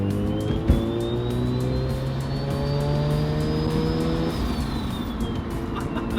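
A Mazda RX-7 rotary engine drives steadily with a buzzing, humming tone that rises and falls slightly, close and continuous, with a brief knock early on and no talking.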